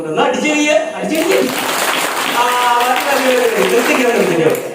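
An audience at a motivational class and anniversary event claps in a steady, loud wash of applause while voices carry over it.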